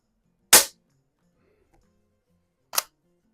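A Crosman Vapor Max air rifle fires two sharp, loud shots about two seconds apart at a paintball target outdoors, each a crisp crack with quiet in between.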